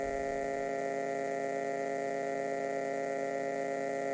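A steady, droning electronic tone thick with layered sustained overtones from feedback through a Verbos Bark Filter Processor fixed filter bank, holding evenly throughout with no change in loudness or pitch.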